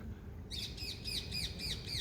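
Invasive parakeets squawk from fir trees, a string of about six repeated harsh chirping calls starting half a second in, fairly faint and distant over steady outdoor background noise.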